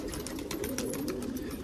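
Pigeons on a large rooftop coo softly, low murmuring calls running on under faint, steady background noise, with no one talking.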